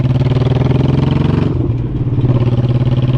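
Motorcycle engine running steadily while riding, a close, continuous mid-pitched drone with a brief dip in intensity partway through before the throbbing resumes.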